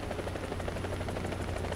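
A military helicopter in War Thunder gives a steady, rapid rotor thump and engine drone, loud and continuous with no speech over it.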